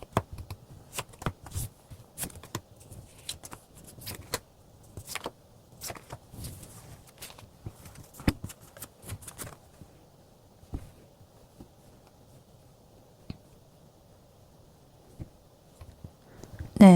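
Tarot cards being shuffled by hand, a run of crisp riffling snaps and soft slides, busy at first and then thinning out to sparse taps in a quiet room, close and fairly faint.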